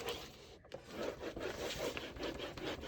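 A tool burnishes a scored paper fold for a mini album, giving a soft, steady, close rubbing scrape that lasts a few seconds, quiet and on its own.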